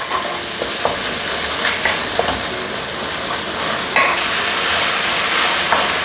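Minced pork stir-fried in a pan for spring roll filling, a loud continuous sizzle broken by repeated scraping strokes of the spatula, close up and without talk.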